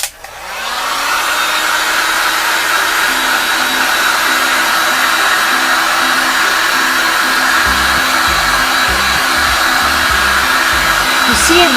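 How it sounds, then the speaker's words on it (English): A heat gun warms encaustic wax, giving a loud, steady blowing whir that runs without a break for the whole stretch, alone with no talking. "I got my trusty heat gun here, and we're just gonna use we're just gonna heat it."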